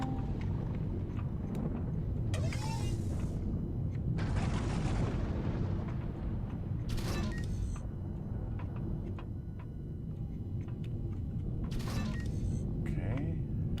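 A gun turret fires in the space survival game Empyrion Galactic Survival during an assault on a drone base, with bursts of sharp blasts and bright crackling over a heavy, constant low rumble while someone talks.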